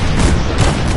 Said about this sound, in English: Soldier, man the cannons.